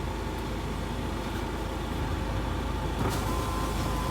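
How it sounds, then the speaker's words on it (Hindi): A car engine rumbles close by with a steady, loud drone and no voices, as the vehicle pulls up. "गाड़ी की आवाज़ सुन के"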